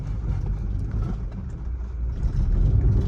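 A Maruti Swift car engine labours up a steep 45-degree slope, a low steady drone that swells louder toward the end as the revs climb, heard close with no talk.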